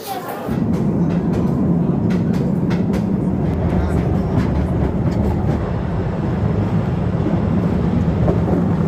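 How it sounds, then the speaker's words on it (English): A cave train at Postojna Caves, Slovenia, rumbles along steadily with a dense low roar and scattered clicks and rattles from the carriage, continuous and close throughout. "So back on the train now."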